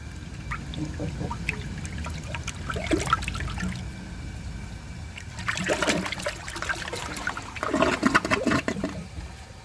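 A 1985 Kilgore Aladdin toilet flushes with loud rushing water that surges, eases, then surges again as the bowl drains and refills, recorded up close indoors.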